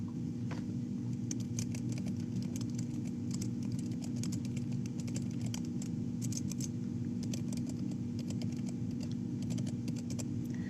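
Typing on a computer keyboard, steady bursts of light clicking keystrokes over a constant low hum, close and clear, with no talking.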